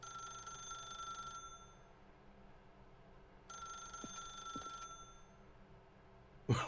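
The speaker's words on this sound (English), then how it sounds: "I was informed that I don't have to answer this phone." A telephone rings in the video game The Stanley Parable, two steady electronic bursts separated by a pause, faint and alone against a quiet room hum, then a short click at the end.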